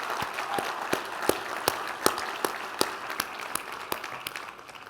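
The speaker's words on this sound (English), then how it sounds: "please join me in giving a round of applause to Willie and to the community that started this" Audience applause at a community keynote event, a steady bed of clapping with distinct sharp claps standing out at a regular pace, fading slightly at the end.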